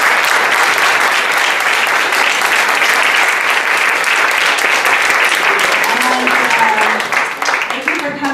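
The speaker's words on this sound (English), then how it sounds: "Let's give them a round of applause." Loud, dense applause from an audience at a public library author reading, steady and continuous for several seconds before tapering slightly at the end, with a few voices surfacing underneath.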